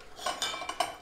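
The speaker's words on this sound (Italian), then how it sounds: "Abbiamo il supporto per la pentola, il fornello" Metal parts of a camping stove and pot support clatter together in a few light, quick clinks, close but quiet, with no talking.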